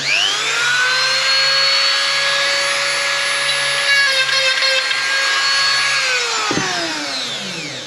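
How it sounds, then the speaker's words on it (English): Dremel rotary tool widening a hole, a loud high-pitched whine held steady for several seconds, briefly bogging under load, then winding down at the end. "using a Dremel for the very first time"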